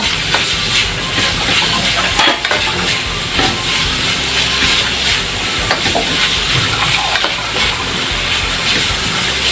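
Ground meat sautéing for lumpiang hubad, a steady loud hiss and sizzle running continuously close up, with occasional small pops and no voices.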